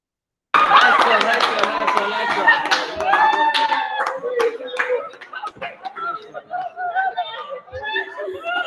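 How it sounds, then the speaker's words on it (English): A round of clapping for the Virtuous Sisters, winners of a regional Girls in ICT competition, loud and dense at first and then thinning into scattered claps mixed with chatter, laughter and voices. "So can we have a round of applause for the Virtuous Sisters?"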